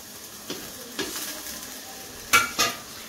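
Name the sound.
tomato sizzling as stirred into frying egg tadka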